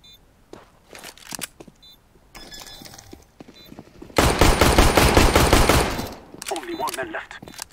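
In the CS:GO shooter, scattered single shots and clicks lead into a loud sustained burst of automatic gunfire lasting a couple of seconds, followed by fainter game effects and a brief voice.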